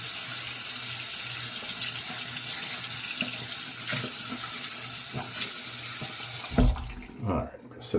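A shaving brush is rinsed under a running bathroom tap, a steady close hiss of flowing water into a sink that cuts off near the end, followed by a few splashes and wet handling sounds.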